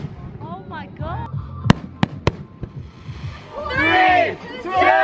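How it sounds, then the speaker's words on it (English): Fireworks on a beach at night in Bora Bora, with a few sharp loud bangs and crackles followed by an excited crowd cheering and shouting nearby. "So they got fireworks for us."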